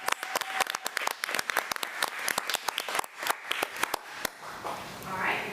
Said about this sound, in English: Let's give Aliana Brown another round of applause.